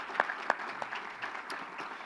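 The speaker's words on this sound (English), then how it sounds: "Would you give a huge round of applause to everybody that has sponsored this year's conference" Conference audience clapping, a short burst of scattered, fairly quiet applause with a few sharper individual claps standing out.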